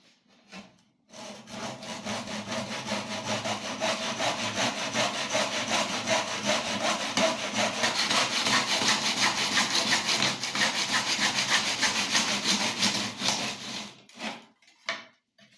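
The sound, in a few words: handsaw sawing wood along guide slots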